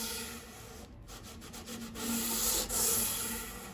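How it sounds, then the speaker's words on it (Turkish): Sandpaper rubbing along the edges of a handmade wooden saz, close and alone: a run of steady back-and-forth scraping strokes that grow louder and rougher toward the end. "zımparasıyla öncelikle kıracağız"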